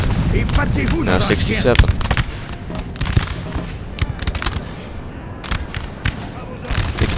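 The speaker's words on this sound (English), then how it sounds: "You see that unit Polish Legion down to 68 due to all the stray bullets." Musket volleys and artillery fire in the Napoleon Total War video game during a 3v3 battle on Prussian hills, a dense ongoing crackle of gunfire and booms with someone speaking over it.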